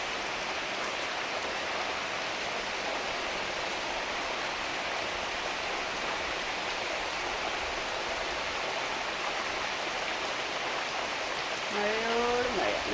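Heavy rain pours steadily in a dense, even hiss that holds for the whole stretch, with a brief ringing tonal sound rising near the end.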